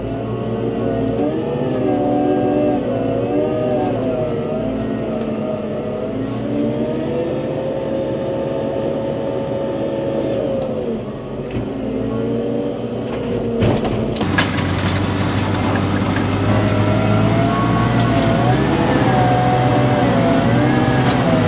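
A brand-new JCB Agri Xtra 542-70 telehandler engine running steadily close by, loud and continuous, with its pitch rising and falling as it revs and a sharper burst of noise partway through.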